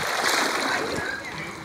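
A person jumping into a water park pool sets off a loud, continuous splash and rush of churning water close by, with voices partly under it.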